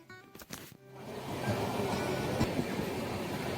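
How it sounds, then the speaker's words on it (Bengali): A passenger train on the Shalimar to Puri route pulls away from Kharagpur Junction after a five-minute halt; a few clunks give way to a steadily building rumble of moving carriages, heard from on board. "এখানে ট্রেন মিনিট 5 দাঁড়ানোর পর আমাদের ট্রেন আবার চলতে শুরু করে দিল"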